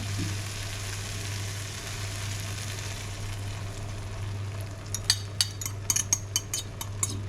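Eggs frying with tomato and onion in a pan give a steady, moderate sizzle throughout, with a quick run of sharp metallic clinks and taps near the end.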